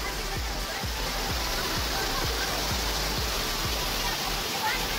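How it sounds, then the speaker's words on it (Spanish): Water pours steadily over the rocks at Cunningham Falls State Park, a dense continuous rushing roar heard from the top of the cascade, with faint low thumps beneath it. "ya estamos arriba de lo que es la cascada"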